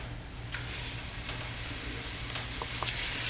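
Round steak browning in oil in a pot, giving a steady, close hiss and sizzle with a few small crackles and no talking.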